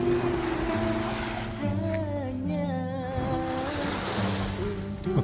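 Ocean waves wash around the end of a breakwater, a steady rushing surf with wind buffeting the microphone, moderately loud and continuous.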